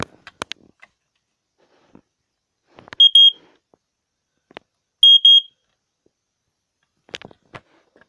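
A BRK 83R smoke detector gives two short, shrill high-pitched alarm beeps a couple of seconds apart, amid quiet handling clicks and knocks.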